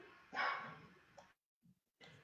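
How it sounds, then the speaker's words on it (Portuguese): A small dog barks in the background, a few short, faint yaps separated by brief silences. "O cachorrinho no fundo, exatamente. Latindo contra esses fantasmas."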